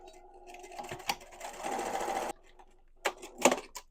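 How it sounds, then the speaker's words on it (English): A sewing machine runs along the hem of a dress in short close bursts, a steady two-second stretch of stitching followed by quick stop-start pulses. "you're just going to sew right along that edge,"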